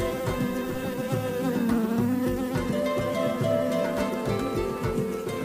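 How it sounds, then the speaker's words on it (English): A bee buzzes steadily through a children's church skit about a giraffe eating leaves, its drone running under a dense, busy mix of other sounds. "It appears that a bee is distracting Gerard Giraffe."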